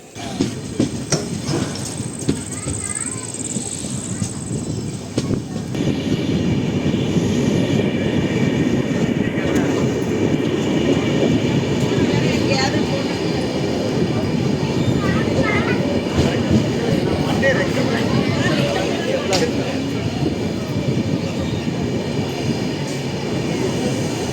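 A Cuddalore–Mysore Express mail train running, a steady loud rumble of wheels and carriages with rhythmic clatter throughout, close by, and a brief high tone near the start.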